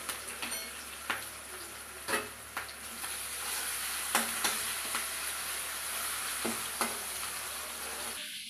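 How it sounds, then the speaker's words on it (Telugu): Onions fry in a pan with garlic paste, green chilli and curry leaves for manchuria, giving a steady close sizzle punctuated by sharp scrapes and clacks of stirring at irregular intervals. "ఇప్పుడైతే ఆనియన్ ఫ్రై అయిపోయిందండి."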